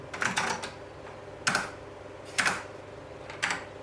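Several isolated key clacks on a computer keyboard, sounding as single sharp taps or short bursts spaced about a second apart at moderate loudness over a quiet background hum, with no voices.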